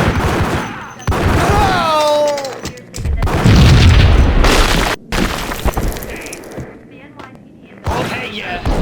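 Gunfire in a Max Payne shootout: booming shots and bursts come in uneven clusters, close and loud, with breaking-glass crashes and game voices between the blasts.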